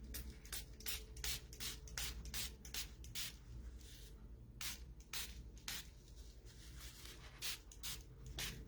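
Pink spray paint hisses from an aerosol can in a series of short, sharp bursts separated by brief pauses, close and fairly loud, with no speech.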